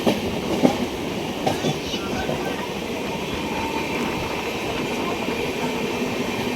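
Passenger train running on rails during a journey near Belagavi, a steady rolling rumble with faint clicks, heard from inside a carriage with no one talking.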